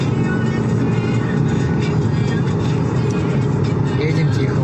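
A car creeps along an icy, snowy road in blizzard conditions in Ufa, its engine and tyre rumble a steady low drone heard from inside the cabin.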